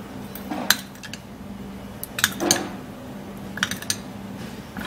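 A spoon mixes turmeric, honey and milk in a bowl, giving a few light clinks and scrapes, each clearly separate, against a quiet background.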